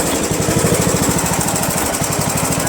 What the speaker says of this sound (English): Engine still doesn't run very good. Runs rough.